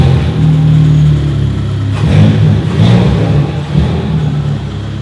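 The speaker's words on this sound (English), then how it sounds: "you can hear a little bit of spool" Ford Fiesta ST with a newly installed hybrid turbo, driven below boost, giving a loud rumbling engine note that rises and falls with revving, with faint turbo spool mixed in.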